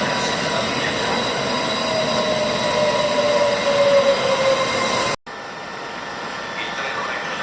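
A Trenitalia regional train pulls into Milano Rogoredo station in the rain, its loud, steady rumble carrying a thin wheel squeal before the sound cuts abruptly to quieter platform ambience.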